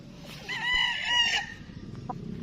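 A rooster crows once on a small farm, a clear close cock-a-doodle-doo rising and holding before it trails off. A short cluck follows over a soft outdoor background.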